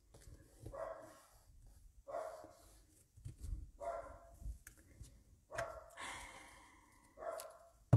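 Dogs bark repeatedly indoors at moderate distance, several separate bursts of barks spread unevenly across the stretch, with no talk over them.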